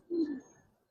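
A single soft, low coo from a Giribaz pigeon in a loft, brief and faint, with a quiet fading tail.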